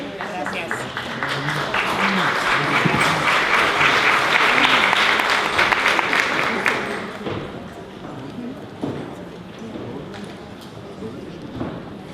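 Loud, dense applause fills a 2015 award ceremony hall for an award recipient, swelling for several seconds before thinning into scattered claps and fading toward the end.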